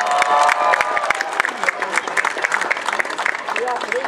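Crowd applause and cheering greet pilgrims arriving at the Jasna Góra shrine in Częstochowa after a walking pilgrimage, dense and loud clapping with shouts mixed in, lasting throughout and blending with voices.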